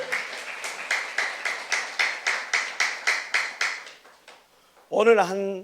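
A church congregation at a Saturday youth worship service claps in a steady rhythm of about a dozen beats, fairly near and even, then the clapping fades and a voice follows.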